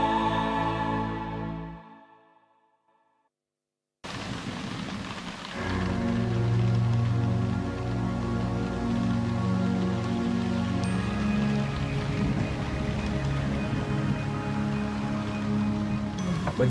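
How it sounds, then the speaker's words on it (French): Steady rain pours down in bad weather, a dense continuous hiss that fades to near silence briefly before returning loud and unbroken for the rest of the stretch. "Bah dis donc, ça pleut encore là."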